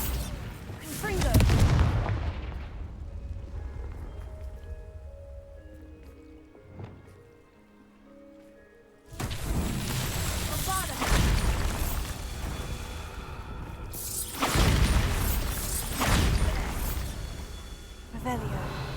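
Fiery Confringo spell blasts from the Hogwarts Legacy video game, a run of loud booming bursts in two dense clusters separated by a quieter gap with faint tonal game sounds.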